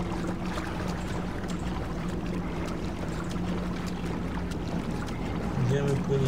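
Moving through water in Assassin's Creed Revelations brings a continuous, even wash of rushing water and wind-like noise that holds steady throughout.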